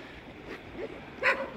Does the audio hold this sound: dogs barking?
yes